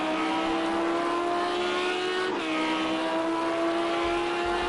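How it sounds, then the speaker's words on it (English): GT3 race cars in Project Cars 2 at Daytona drone loudly and continuously, one car's engine note sweeping past mid-way as several cars overtake. "He's being passed by several cars here"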